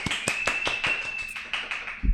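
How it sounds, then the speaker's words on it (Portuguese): Audience applause greeting a guest on a Portuguese-language podcast about severe autism: a short run of crisp, evenly spaced handclaps with a thin steady tone running beneath, ending in a soft low thump. "Uma salva de palmas!"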